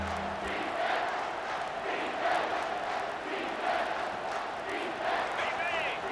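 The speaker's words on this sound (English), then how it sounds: "Third down, and this crowd is tearing the lid off this place." A college football stadium crowd roars on third down in a Penn State versus Ohio State game, a dense, loud, sustained wash of voices with surges and faint chant-like tones throughout.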